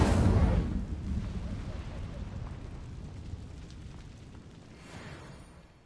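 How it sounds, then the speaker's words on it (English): An Incendio fire spell cast in the video game Hogwarts Legacy erupts in a loud fiery burst, then fades into a long rumbling roar. "Incendio!"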